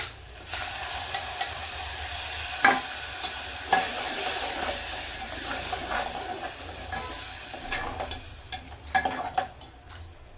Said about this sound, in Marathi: टमाटरचं पेस्ट टाकल्यानंतर याला थोडं शिजू द्यायचं.